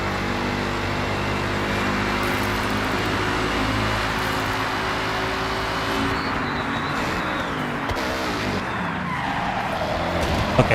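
A car in Forza Horizon skids with tires squealing after a hard handbrake pull, engine droning loudly under a long sliding screech that fades and shifts toward the end.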